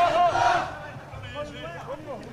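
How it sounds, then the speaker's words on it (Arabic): A crowd chants loudly at a large protest march in Hebron in support of Al-Aqsa Mosque, with voices strongest in the first half-second before settling into a quieter, continuous murmur of shouts and babble. "هذه هتافات نصرة للمسجد الأقصى."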